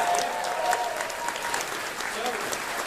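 Applause from the audience at the closing ceremony of Confuzzled 2024, a furry convention. Dense, steady clapping fills the whole stretch at a constant level, with a faint voice passing underneath.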